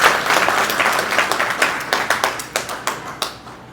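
Applause from an audience at a public talk, a dense wash of many hands clapping that thins into a few scattered, distinct claps as it fades out.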